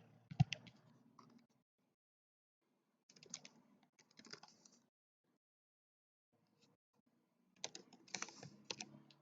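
Three short bursts of typing on a computer keyboard, quiet and close, with rapid clicking keystrokes separated by pauses of near silence.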